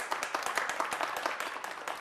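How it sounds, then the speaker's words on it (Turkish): A studio audience claps steadily for two women contestants on a Turkish TV game show, a dense, even patter of hands throughout with no talk over it. "Alkışlıyoruz, kuvvetli alkışlar bu hanımlara"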